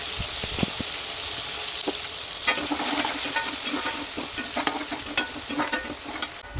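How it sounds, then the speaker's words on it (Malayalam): Shallots, garlic and ginger fry in hot oil, a bright continuous sizzle that swells after a few seconds, with quick clinking stirs and scrapes scattered throughout at close range. "ആദ്യം ഇട്ട് കൊടുക്കുന്നത് ചുവന്നുള്ളി വെളുത്തുള്ളി ഇഞ്ചി ഇത് ഇതിൽ ചേർന്നൊരു പകുതി മൂപ്പാവട്ടെ"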